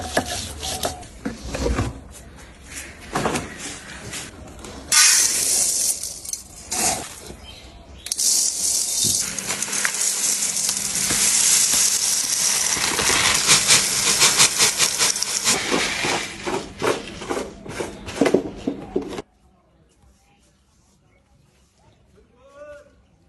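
Khichuri cooking in a pot, with a steady steamy hiss and sizzling rasp running for most of the stretch, broken by scraping stirs and clatter, with people talking nearby; it cuts off to near quiet at the end.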